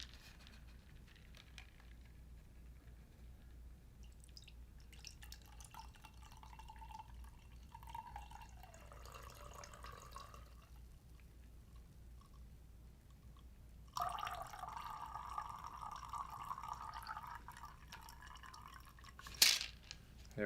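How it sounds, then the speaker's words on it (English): Cocktail strained into a glass, faint liquid trickling and dripping in two quiet stretches, the second a brighter steady pour, ending with a sharp glassy clink, in an otherwise hushed setting. "And strain into our glass."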